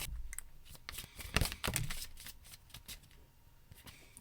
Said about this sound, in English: let me actually cut this deck.